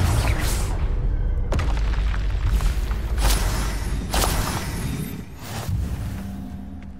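Fiery spell blasts from the Confringo curse in the PS5 game Hogwarts Legacy, several loud booming bursts with whooshing tails over a dense, constant game soundscape, each impact punching through the rumble.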